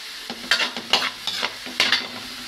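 Ground pork fries in a pan with a soft sizzle under several close, rhythmic stirring scrapes from a utensil, about four strokes in quick succession.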